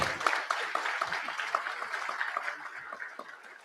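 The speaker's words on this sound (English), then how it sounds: "I want you all to clap for it" Audience at a human resource conference in New Delhi claps, a moderate-sized spread of hand claps with a few sharper accents, fairly steady then gradually tapering and thinning out.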